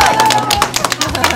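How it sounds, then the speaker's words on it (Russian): Wedding guests clap in a lively burst of applause as the couple feed each other, rapid overlapping claps filling the room alongside crowd murmur and a steady musical tone. "И друг друга на брудершафт под наши аплодисменты кормим."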